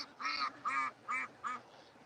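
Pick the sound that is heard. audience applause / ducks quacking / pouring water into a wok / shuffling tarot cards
ducks quacking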